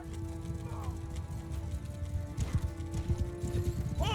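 Cavalry horses pound forward in a Bannerlord medieval battle, a rumbling mass of hoofbeats with a neigh or two, growing heavier toward the end over a steady low background hum.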